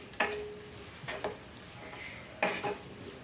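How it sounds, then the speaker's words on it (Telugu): Prawns and onions fry in a pan with a soft, low sizzle, while a spoon clinks and scrapes against the metal in three short stirring bursts. "చూడండి, ఉల్లిపాయలు రొయ్యలు వేగినాయండి."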